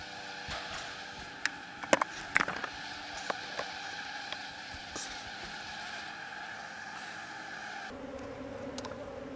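A steady, faint hum of honey bees swarming around an open hive during a colony split, with a few soft knocks and handling clicks. No talk.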